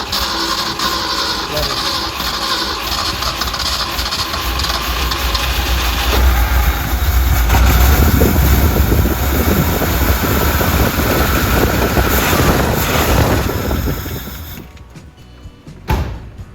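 A 1971 Ford farm find, parked for 34 years, runs rough as the throttle is opened: a loud, rising engine roar that swells mid-clip and then cuts off, with voices present over the noise.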